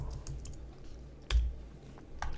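A few sparse keystrokes tapped on a computer keyboard, close and fairly quiet, with one louder clack partway through and a low hum beneath.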